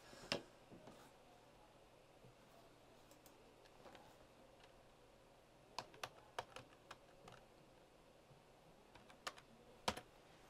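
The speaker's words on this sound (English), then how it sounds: "Now let me type the word password and see what it is" Quiet, close typing on a computer keyboard, with irregular clusters of sharp key clicks and pauses between them, alone in a still room.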